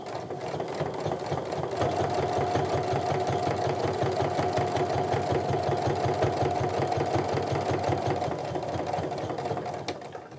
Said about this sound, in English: I'm trying to stitch and follow that same guide so that I'm going straight over the same stitching line I did before